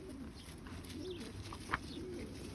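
Pet pigeons or doves coo softly in a room, low repeated calls over faint background noise, with one brief sharp chirp partway through.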